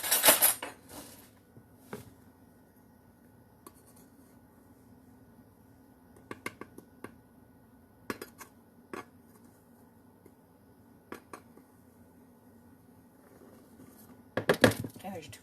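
Flour being leveled off in a 2-cup measuring cup, with light scraping and a few sharp clinks of utensil against the cup scattered through a quiet kitchen, plus a brief louder clatter near the end.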